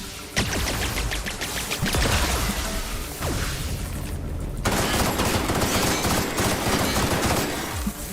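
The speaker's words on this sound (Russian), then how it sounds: "Выстреливаем все, что можем." Loud, repeated bursts of gunfire and rapid shots crowd the whole stretch of a firefight in The Outer Worlds, with a brief lull partway through.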